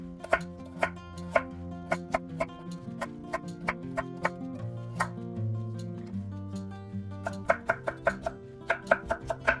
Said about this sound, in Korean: 당근 100g은 얇게 채 썰어주세요.